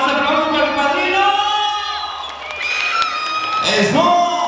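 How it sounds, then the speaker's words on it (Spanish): Guests at a quinceañera party clap and cheer for the godfather, a crowd of applause and whoops mixed with shouting voices and loud tonal calls over a constant room din. "¿Hace aplausos para el padrino?"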